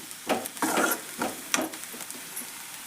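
Fenugreek leaf palya frying in oil, with soft bursts of sizzling and stirring scrapes that come in uneven pulses at close range, and no voices.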